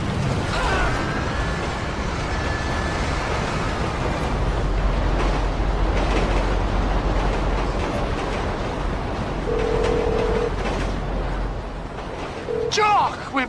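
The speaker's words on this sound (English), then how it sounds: "Train accident. Very sudden." A train rumbles steadily and loudly in GTA 5, a continuous rolling clatter lasting throughout, with a brief screech and burst near the end, under game music and voices.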